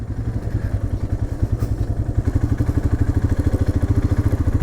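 A motorcycle engine thuds along steadily in first gear on a mountain road from Srinagar toward Chopta in Uttarakhand, a close, loud, rhythmic low pulse that grows more even and insistent as it pushes past falling sand.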